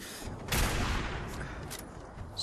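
Explosive-round gunfire in Fallout 4, a dense burst of loud shots and blasts with a strong impact near the start, followed by rumbling and softer follow-up reports.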